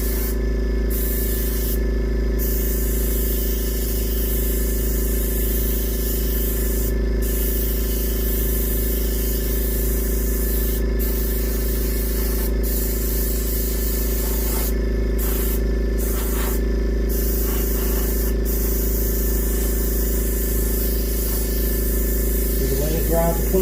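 Polyurethane gloss sprayed onto a painted reproduction warmouth fish, a loud continuous aerosol hiss held for long stretches with a few brief pauses between bursts, close to the ear.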